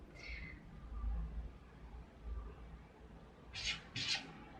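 A cat meows to be let inside, with faint calls early and two louder, close meows near the end over a low indoor rumble.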